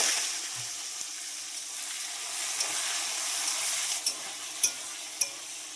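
Bay leaf and cumin seeds sizzle in hot oil with a steady, close frying hiss that stays even throughout, broken by a few sharp crackles and pops near the end.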